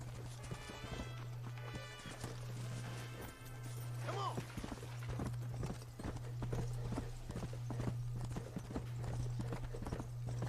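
Horse hooves clip-clop steadily in Red Dead Redemption as the horse approaches, a repeating rhythmic patter of hoofbeats over a constant low hum, with a brief whinny-like call near the middle.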